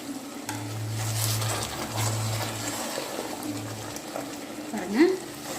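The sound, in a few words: stuffed brinjal curry boiling in pot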